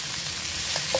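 Squid stir-frying in a hot pan, a steady broadband sizzle that holds at an even loudness throughout, with no voices.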